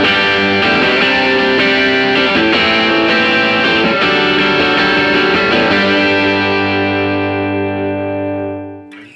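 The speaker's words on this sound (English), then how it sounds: "I like to keep a transparent kind of light to medium overdrive so it's not overpowering the mix" A sustained electric guitar chord rings out through light overdrive, bright and harmonically rich, then fades away smoothly to silence near the end; no voices.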